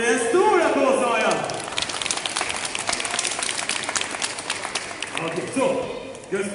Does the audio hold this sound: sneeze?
no